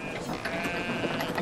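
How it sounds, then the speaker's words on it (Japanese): Sheep bleat in the video game Brothers: A Tale of Two Sons, a steady, close, fairly loud wavering cry over a busy noisy game background, with no talk. "あれめいめい言ってるから羊じゃないかな。"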